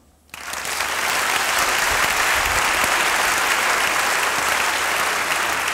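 A church congregation breaks into loud, sustained applause after a short quiet moment, a dense even clapping that fills the room.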